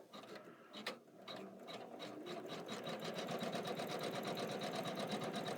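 A computerized embroidery machine runs steadily, stitching a vine stem in green thread on a garden-themed mat, its rapid rhythmic needle clatter building after a brief start and continuing close and loud throughout.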